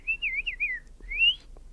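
A person whistles an imitation of a house finch song: a close, clear warbling phrase of wavering notes, a brief pause, then a rising whistled note.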